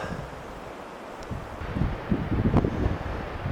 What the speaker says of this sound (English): It's pretty cold here in the shade with that wind blowing.